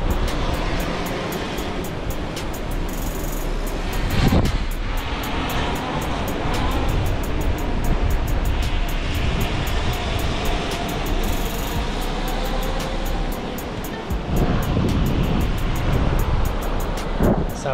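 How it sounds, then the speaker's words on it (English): A fishing drone hums steadily over the surf as it carries two cut cownose ray baits out from the beach, its buzzing drone layered with continuous wave wash and wind rumble on the microphone, with no talking. "Fixing to send out these first two baits"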